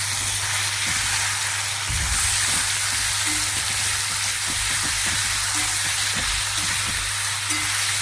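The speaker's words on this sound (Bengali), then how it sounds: "ভেজে নেব" Steady loud sizzling as ground spices with coriander powder fry in a pan, a dense continuous crackle with occasional stirring scrapes and a low background hum.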